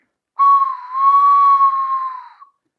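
A bird flute sounds one long, pure whistled tone imitating a bird call, slightly wavering in pitch over about two seconds before cutting off, heard close and alone with no other sound.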